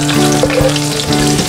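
Garlic frying hard in hot oil, a loud, close, steady sizzle with crackling pops and spatters throughout and no voices.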